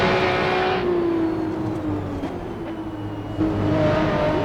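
A Radical SR3 XXR race car accelerates hard on a track, rear tires slipping, with a loud, high engine note rising and then dipping through a gear change before climbing again.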